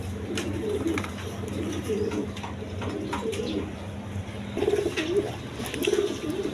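Several pigeons of mixed colored breeds coo continuously nearby, their soft, rumbling, repeated calls swelling louder near the end, with no talking.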